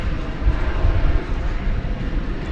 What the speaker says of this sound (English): we're going to see flight 2792 American Airlines coming in. It's an Airbus A319